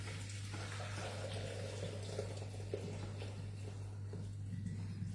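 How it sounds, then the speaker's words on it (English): Pre-boiled water pours steadily into a Thermomix bowl, a constant close splashing rush over a low electrical hum that runs unchanged throughout. "now I'm going to just put in a load of water which I've pre-boiled"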